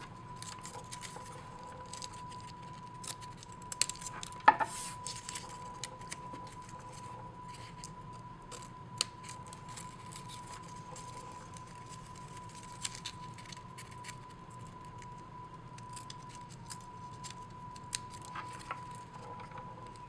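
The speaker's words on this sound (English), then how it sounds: "you just take your scissors and cut along the edges, making sure you don't cut the actual ornament" Scissors snip along the edges of a folded paper star ornament in a run of quiet, irregular cuts and rustles, with a steady faint electronic hum behind them and no talk.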